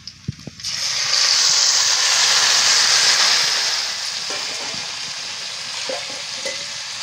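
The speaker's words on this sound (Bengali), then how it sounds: "মাখিয়ে রাখা শিমটা তেলের মধ্যে ঢেলে দিচ্ছি" Marinated flat beans tipped into hot oil with green chillies and chopped garlic, erupting into a loud, steady sizzle that peaks early and then settles into a softer continuous crackle, with a few faint clinks toward the end.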